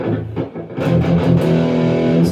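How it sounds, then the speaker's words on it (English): An electric guitar through a Tube Screamer overdrive plays a short phrase, warm and mildly distorted, with notes sustaining loudly and close. "this sound right here is going to give you that kind of tube screamer sound"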